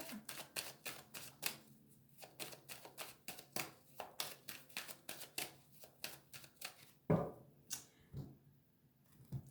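A deck of tarot cards is cut and shuffled by hand, with a rapid run of crisp, close card riffles and slaps and a louder knock near the end.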